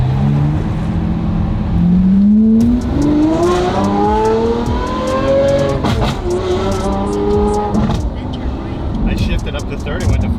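A Lamborghini SVJ's engine revs hard and climbs through the gears, its pitch rising then dropping at each shift, loud and close from inside the car, with a voice talking over the engine.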